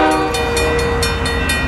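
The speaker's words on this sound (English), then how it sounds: "we've got a CSX train" CSX freight train passing at South Florence, South Carolina, a loud steady rumble with sustained horn tones and rhythmic clatter of cars going by close.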